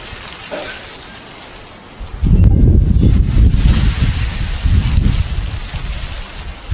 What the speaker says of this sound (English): Out in front, we have a little wind.